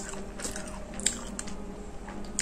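An egg and bacon toast sandwich from a Korean sandwich bar is bitten into and chewed, giving soft, close, moist crunches and squishy chewing sounds, quiet and without talk.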